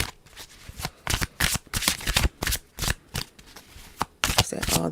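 Tarot cards being shuffled up close, giving a string of loud, rhythmic riffling bursts with short pauses between them.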